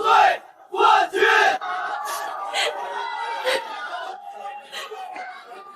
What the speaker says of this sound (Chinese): 欢呼声响彻整个海之蓝